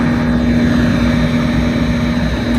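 MPI F40PH-3C diesel locomotive idling at a platform in Train Sim World on an MBTA Boston to Providence service, a loud, steady engine drone with a strong low hum that holds unbroken throughout.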